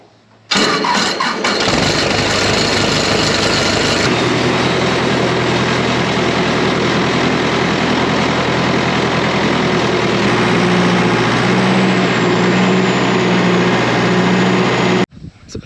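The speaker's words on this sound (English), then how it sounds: "gonna get the old Wilmar 745. We're gonna get it cranked up and get ready to get loaded up" The engine of a Wilmar 745 farm sprayer cranks briefly, fires up and settles into a loud, steady, low rumbling idle that holds close by until it cuts off near the end.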